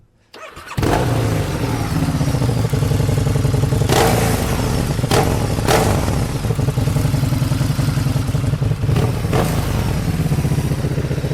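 A Harley-Davidson V-Rod Street VRSCR motorcycle fires up and settles into a loud, close, throbbing idle, with a few brief throttle blips swelling the engine note.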